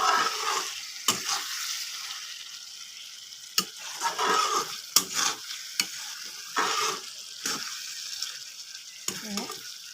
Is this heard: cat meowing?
no